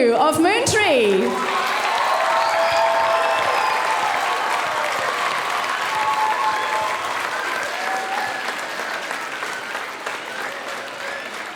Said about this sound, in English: Can we please give one more very, very big applause for our entire crew of Moontree?